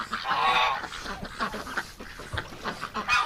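Muscovy ducks in winter crowd around a garden hose, giving repeated short hissing and huffing calls with some wingbeats, close by and fairly loud.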